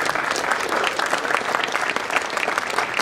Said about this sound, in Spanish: fuerte el aplauso para el maestro Edwin Zulampi